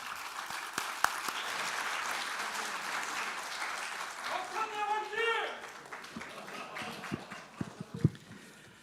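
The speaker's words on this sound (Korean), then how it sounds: "당선 인사를 여러분의 힘찬 박수로 청해 듣겠습니다." Applause from a party assembly of lawmakers electing a new floor leader, a moderate wash of clapping in a hall with people speaking over it and a few sharp claps near the end.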